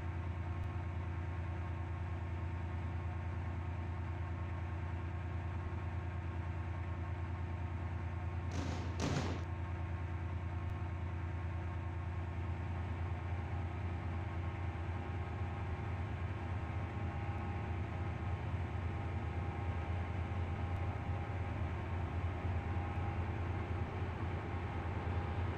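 A train ride in the Roblox game SCR Stepford County Railway: a steady, quiet hum of a moving three-coach train with a low engine drone and one brief click midway, no talk.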